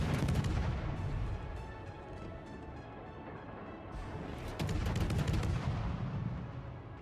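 Heavy ship guns firing in World of Warships, booming salvos that come loud and close, fade into a rumbling tail, then return as a second powerful volley.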